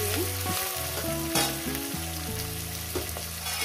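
Chopped onion frying in a pan for a fish curry gives a steady, close sizzle throughout, heard under background music with no talk.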